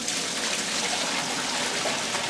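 Water is poured steadily into a container for a school energy demonstration, a continuous loud splashing gush that holds at an even level throughout with no voices.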